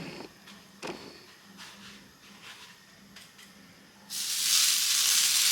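Pathrode, a Malnad-style dish, lands on a griddle greased with coconut oil and begins a loud, steady sizzle near the end, after a few soft taps and knocks in a quiet kitchen.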